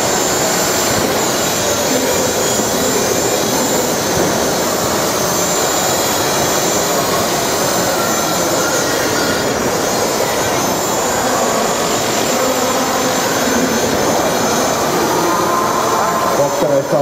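A 4.5-size radio-controlled model helicopter flies figure-eight patterns, its rotor and motor producing a constant loud whine and whoosh throughout, with a voice talking over it.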